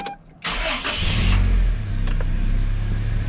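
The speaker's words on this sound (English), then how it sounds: "So I'm going to be starting up the vehicle." A car engine cranks briefly and catches, then settles into a steady loud idle with a low rumble close by.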